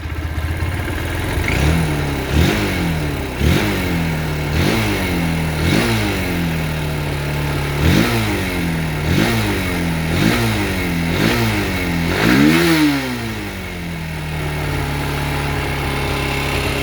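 A Honda Hornet 160R motorcycle engine, being repaired after sitting unstarted for a long time, idles and is revved in about ten short, evenly spaced throttle blips, each rising and then falling back to a steady idle.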